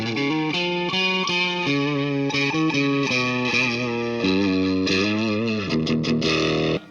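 Electric guitar runs through an amp plugin on an ambient preset, with wide chorus, distortion and effects wash as melodic notes and chords ring steadily and loudly with no speech.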